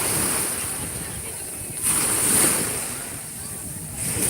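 Sea waves wash steadily onto a rocky shore near Salerno, a continuous rushing surf with wind noise, swelling louder around the middle of the stretch.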